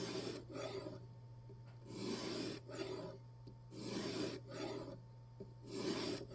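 A knife blade is drawn across a stone on a jig sharpening system in slow, regular back-and-forth strokes, about five rasping passes, quiet and close, with a steady low hum underneath.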